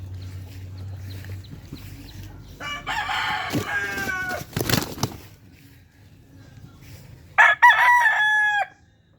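A rooster at a Philippine poultry yard crows loudly and close by near the end, preceded by clucking and rustling farmyard noise.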